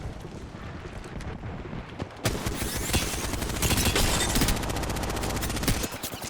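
Light machine guns fire in Apex Legends as a sustained rapid burst of gunfire. It opens with scattered shots, then becomes dense and continuous from about two seconds in, loud and close before it stops near the end.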